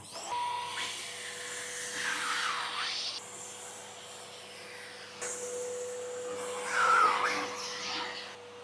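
An American Micronic vacuum cleaner with a brush attachment runs at low speed, a faint steady whir with soft rubbing and brushing sweeps as the nozzle moves over fabric.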